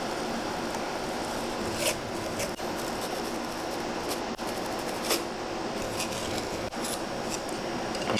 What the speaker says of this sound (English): We gotta peel all this drywall very carefully off that face paper.